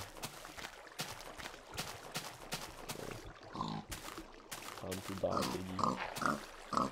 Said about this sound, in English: you can see a pig over here.